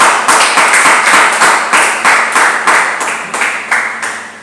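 Church congregation clapping together in rhythmic acclamation, loud even claps in a steady beat, roughly two per second, with no voices over them.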